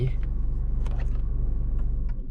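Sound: Peugeot 2008 engine shutting off

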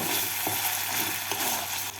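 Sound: raisins stirred in hot oil

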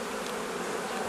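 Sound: honey bees buzzing at hive

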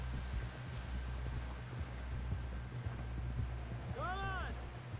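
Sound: horse hooves, from a video game

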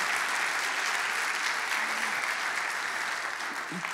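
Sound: audience applause in church

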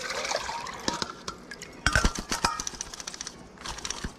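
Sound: water draining from huckleberries in a strainer

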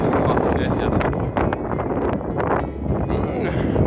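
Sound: strong wind blowing on a beach

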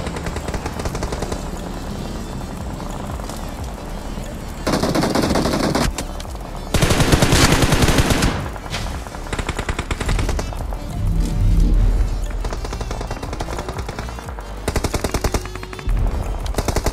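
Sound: gunfire from many directions in a video game match

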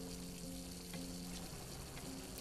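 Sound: water sound in video game Layers of Fear

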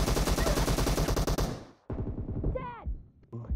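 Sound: gunshots in the video game PUBG Mobile

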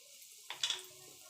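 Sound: asafoetida and black cumin tempering in hot oil

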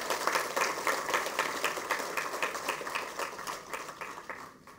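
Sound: audience applause welcoming a minister

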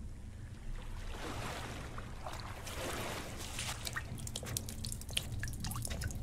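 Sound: water dripping off player in Pools video game

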